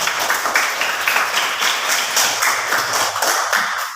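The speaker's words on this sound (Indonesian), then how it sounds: "Kita tepuk tangan dulu." Audience applause with steady hand clapping fills a classroom-style session, dense and sustained throughout at a fairly loud level.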